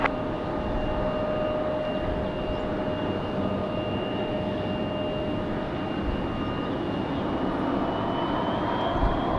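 An airplane takes off at Raleigh Durham airport, heard as a steady, distant engine roar that holds without breaks throughout, alone with no voices.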